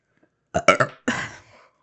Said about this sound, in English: That is now the second episode I burped